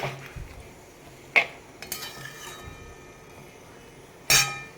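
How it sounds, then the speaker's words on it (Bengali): A spoon stirs curry in a metal pot, with sharp clinks and scrapes against the rim at intervals over a low bubbling simmer, close and fairly quiet. "তো চলো একটু নেড়ে চেড়ে নিলাম।"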